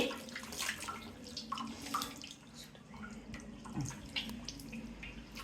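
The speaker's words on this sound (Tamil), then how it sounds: "வாங்க அலசிட்டு குட்டி குட்டியாக அரிஞ்சு போட்டுக்கலாம்." Goat tripe being rinsed by hand in water for a gravy, soft sloshing, splashing and dripping in irregular bursts, quiet and close, with no talk.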